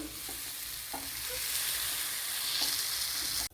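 Fish cutlet made with ayala mackerel and tapioca frying in a pan, a continuous close hiss and sizzle with a few soft scraping taps from a spatula as the pieces are turned.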